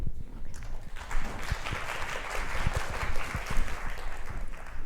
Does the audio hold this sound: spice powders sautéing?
no